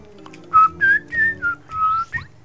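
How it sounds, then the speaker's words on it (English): A person whistles a short tune of several clear, sustained notes with small pitch slides between them, close and alone with no talking over it. "I can never whistle that well"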